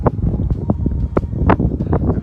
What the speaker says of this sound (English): God, it's windy down here now